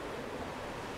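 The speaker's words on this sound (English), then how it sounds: "The only noise you can hear is the water streaming off the hull." Water rushes steadily off the hull of a Sunreef 80 Eco, a solar-powered electric catamaran cruising at sea, as a continuous close wash with no motor sound.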